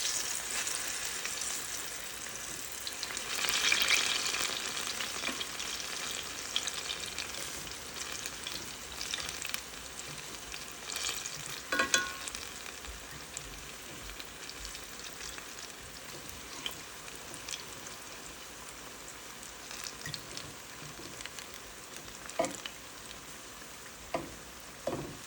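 Banana fritters sizzle steadily in hot oil, a continuous bright crackling hiss that swells briefly near the start, with occasional sharper pops and spatters and no voices.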